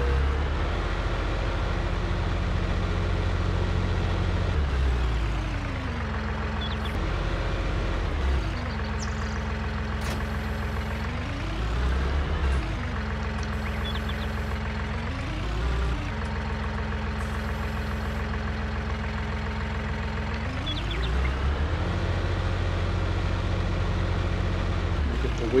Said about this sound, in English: So let's get it on the tractor and get it home